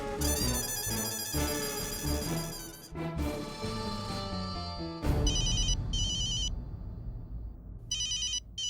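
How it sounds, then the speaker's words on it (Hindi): An electronic telephone ringtone rings in repeated bursts, loud and close, mixed with background music. "ये किसका फोन है?"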